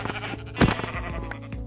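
Sheep bleat in the Minecraft video game: a single loud, wavering bleat near the middle, over a bed of steady in-game background sound.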